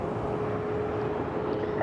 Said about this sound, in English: Airbus off the nose.